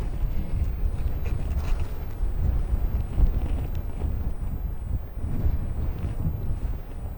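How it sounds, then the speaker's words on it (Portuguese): Strong wind roars steadily in a snowy place, a dense low rumble buffeting the microphone with gusts rising and falling throughout, no voices over it. "Meu Deus, que ventania, rapaz!"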